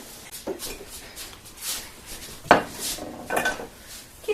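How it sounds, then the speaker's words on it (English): A pork loin and sweet potato bake dish is handled and slid into the oven, producing scattered close clinks and clunks of cookware and metal, with no speech. "let's get our pork loin dinner in the oven."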